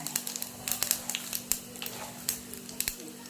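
Crackling, popping sizzle of cumin seeds hitting hot oil, a quick irregular patter of small pops over a low background hum.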